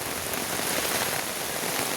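Steady rain falling under a cloudy monsoon sky, a dense continuous hiss of drops on surfaces with no voices, constant and even throughout.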